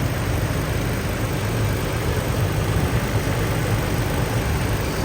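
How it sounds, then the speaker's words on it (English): A 2020 Toyota Tacoma engine with 38k miles idles steadily and loudly with a low rumble and broadband hiss, unchanging throughout, with no voices. "the engine is running"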